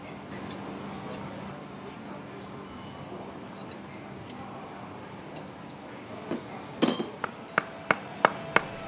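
A hammer striking a piece of wood to drive a piston into an engine exhaust valve air cylinder, a quiet stretch followed by a series of sharp, close knocks spaced about half a second apart.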